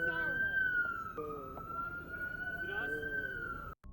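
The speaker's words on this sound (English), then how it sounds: "Somebody shut that fucking siren off." A police car siren wails loud and close, holding a steady rising-and-falling tone for several seconds over background voices before it cuts out briefly at a police shooting scene.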